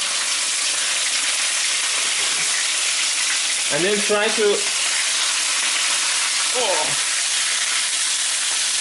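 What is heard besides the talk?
minced meat with chilies sizzling in hot oil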